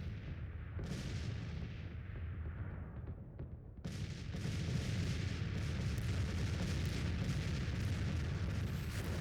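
Civil War artillery booms in the strategy game Grand Tactician: The Civil War, a dense rumbling barrage of distant cannon fire that swells louder after a sharp crack midway and rolls on continuously.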